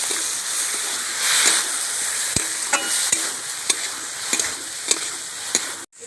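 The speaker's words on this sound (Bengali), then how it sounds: "সেদ্ধ করা মাছ দিয়ে ভালো করে নেড়ে চেড়ে নেবো অনেকক্ষণ" Spatula stirring boiled lote fish mixture with spices in a hot pan, a steady sizzle under scattered scraping taps, close and fairly loud.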